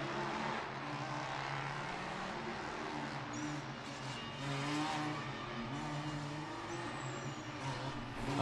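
Formula Student race cars speed past during an endurance final, engine noise blending into a loud, steady roar of cheering and shouting spectators throughout, with a brief high whine near the end.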